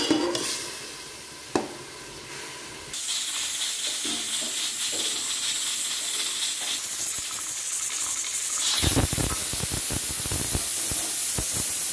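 Steam hisses steadily from a pressure cooker holding overnight-soaked lentils for dhaba-style dal, a continuous spraying rush that grows louder and brighter near the end, with no talking.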